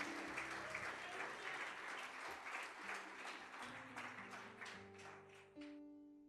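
A church congregation applauding in unison, sustained clapping from a large crowd that gradually thins, with sustained organ or keyboard chords playing underneath.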